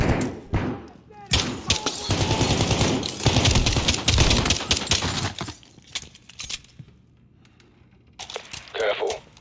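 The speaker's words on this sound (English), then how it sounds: "To dopiero przecież wystrzelił do mnie serię" A burst of automatic gunfire in a Modern Warfare 2019 campaign mission, with rapid shots rattling under spoken dialogue, then fading into quieter scattered sounds and a short later noise.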